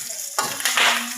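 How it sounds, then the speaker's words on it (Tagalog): Ingredients sautéing in a pan for adobong sitaw, a brief loud sizzle that swells as they are stirred. "Ginigisa ko guys."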